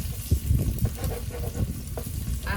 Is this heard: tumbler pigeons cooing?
no